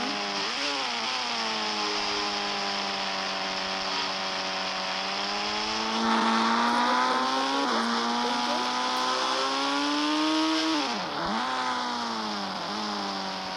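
Video game car engine droning steadily through a drive, pitch rising and falling as it revs, with a sharp dip and recovery near the end; loud, close and continuous, without speech.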